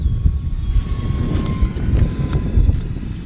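An E-flite Micro B-2 Stealth Bomber RC plane flies steadily overhead, with a thin electric whine sitting above a constant rumble and breezy wind noise on the microphone.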